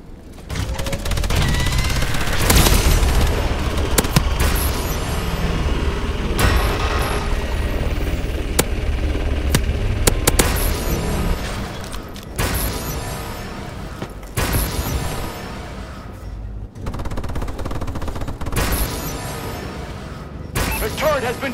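Heavy gunfire from a friendly Vulcan killstreak in Call of Duty: Advanced Warfare, a team deathmatch on the Core map: dense, sustained bursts and blasts run almost continuously, loud and close, broken by brief gaps between volleys.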